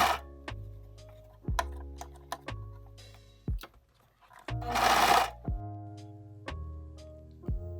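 A serger sewing machine stitches a denim jean skirt in short bursts of rapid mechanical ticking and whirring, stopping and starting several times, close and moderately loud.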